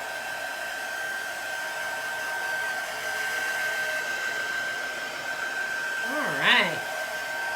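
A hair dryer blowing on a chalk transfer, a steady whirring hum held at constant strength throughout, with a brief spoken remark near the end.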